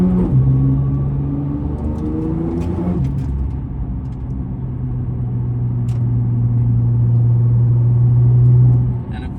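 A Nissan GT-R driven on the road, its engine holding a steady, fairly loud hum that steps down in pitch at a smooth gear shift near the start, then settles into a sustained drone until it fades at the end.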